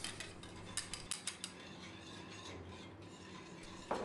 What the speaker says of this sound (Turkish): 4 yemek kaşığı un ilavesi yaptım ve hepsini güzelce karıştırıyorum